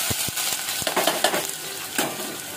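Sliced onions fry and crackle in a pan for spicy chicken sukka, with sharp metal spatula knocks and stirring scrapes over a steady sizzle, close and fairly loud.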